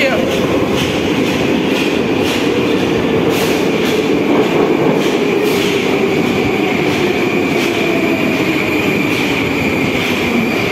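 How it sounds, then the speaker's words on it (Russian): A Moscow-2020 metro train rumbles and screeches steadily, wheels grinding on rails with a descending squeal as it slows into Novye Cheryomushki station on the Moscow Metro. "на станцию приходит Москва-2020"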